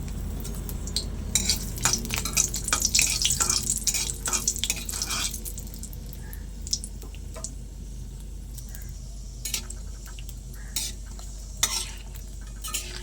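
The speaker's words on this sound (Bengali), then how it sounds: "এবার আমি শুকনো লঙ্কাগুলো ভেজে নেব" Dried chillies crackle and sizzle in hot mustard oil with frequent sharp pops, busiest early on, while a utensil clinks against the pan now and then.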